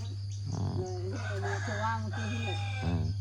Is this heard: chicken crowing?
yes